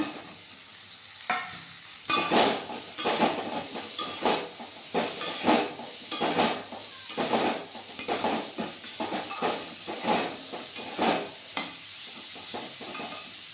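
Pre-fried cauliflower going into a hot pan with ground turmeric and chilli masala, giving a steady sizzle broken by frequent spatula scrapes and clanks against the pan, no talk.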